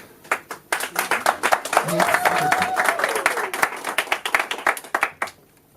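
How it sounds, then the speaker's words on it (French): Applause from a church congregation at a sisters' Easter 2025 service in the Béthanie section of Lorient, a dense steady clapping that swells for several seconds, with a voice rising briefly over it before breaking into scattered claps and fading. "Les applaudissements sont des bénédictions"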